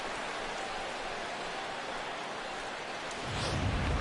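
Rain falls steadily in a baseball video game, a dense, continuous hiss with a low rumble swelling near the end; no speech.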